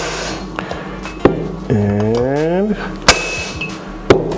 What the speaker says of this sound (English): You just use your little hammer here, put it on, and give it a nice little.